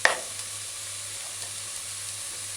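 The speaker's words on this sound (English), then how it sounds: "keep the vegetables to one side and just continue stir fry" Ground beef stir-frying in a pan with vegetables pushed to one side gives a steady, close sizzle. A brief clatter opens it, and no one speaks.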